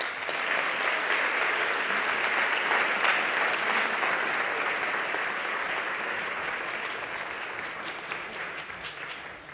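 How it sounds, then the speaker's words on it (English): Sustained applause from a large audience at a healthy-cities summit in London, a dense steady clapping roar that stays loud for the whole stretch and fades slightly at the end, with no voices. "one more big round of applause for all of them"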